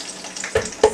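Melted ingredient for pumpkin muffin batter poured into a bowl, giving two short sizzling bursts over faint background kitchen noise.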